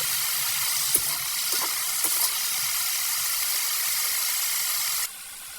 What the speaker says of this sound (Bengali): তারপরে একটু হলুদের গুঁড়ো, লবণ দিয়ে ভালোভাবে নরম করে ভেজে নেব